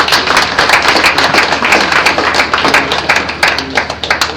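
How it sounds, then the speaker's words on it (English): Audience applause at a national conference and induction ceremony: dense, steady clapping from a large crowd fills the room continuously, with sharp individual claps standing out and no voices over it. "Dr. Felix Valentine another round of applause"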